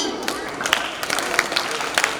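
Audience at a 77th Independence Day celebration program clapping on command in short rhythmic bursts, sharp claps mixed with voices.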